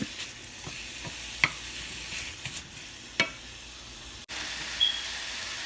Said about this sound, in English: So I'll put half of the sausage, half of the ground beef. I'm going to cook this up.